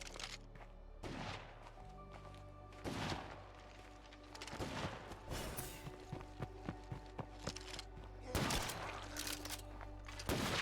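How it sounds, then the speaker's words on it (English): Gunfire in State of Decay 2, several sharp shots spaced irregularly over steady game ambience, with footsteps and faint other sounds between them. "I shoot her in the back."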